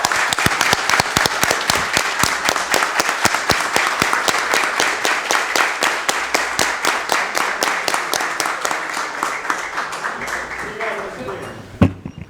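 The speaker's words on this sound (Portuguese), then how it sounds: "Eu peço a todos os presentes aqui uma salva de palmas, doutor João." Rhythmic applause from those present at an ordinary city council session, a loud, sustained round of many hands clapping in near unison for about eleven seconds before tapering off with a final knock.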